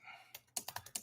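Typing on a computer keyboard, about six quick close clicks in a short rhythmic burst after a brief quiet moment, with no talk.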